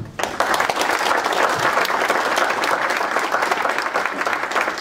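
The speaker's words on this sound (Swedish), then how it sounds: "En fantastisk varm applåd till alla er." Warm applause from an audience at a Swedish association's annual meeting, steady and dense, filling the room at close range after a brief start, with no talk over it.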